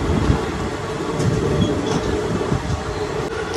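The 13141 Teesta Torsha Express pulls out of a station, a steady loud rumble of rolling wagons with rhythmic clatter heard from inside the train, no talking.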